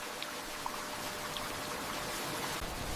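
Steady, soft rain hisses over a valley village in Grindelwald, Switzerland, with faint scattered droplet patter and no voices.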